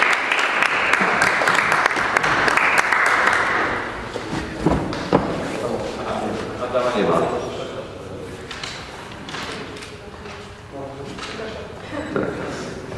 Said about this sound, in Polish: Oklaski!